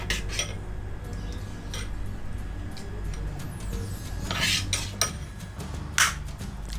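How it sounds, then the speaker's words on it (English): A spoon stirs custard powder into water in a bowl, with steady scraping and occasional metallic clinks against the dish, close and moderately loud, with no talk. "I have taken 6 spoon custard powder, add water to mix it. Mix well without lumps."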